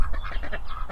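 Ducks honk and quack in their outdoor run, a close, busy chorus of overlapping calls that fills the whole moment.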